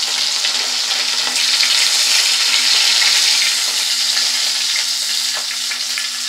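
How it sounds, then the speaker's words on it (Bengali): Pieces of fish fry in hot oil in a pan, giving a loud, close, continuous sizzle with crackling spits and a few faint stirring scrapes. "উল্টে পাল্টে ভালো করে মাছগুলোকে ভেজে নেব"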